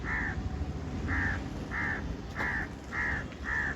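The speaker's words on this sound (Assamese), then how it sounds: "কাউৰীকেইটাকে ওচৰ বহি চিঞৰি আছে ইয়া" Crows caw close by in six separate harsh calls spaced about half a second apart, over a low steady outdoor background.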